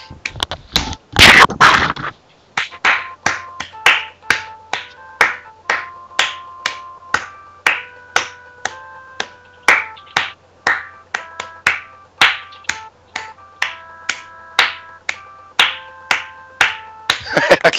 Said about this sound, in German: Er klatscht.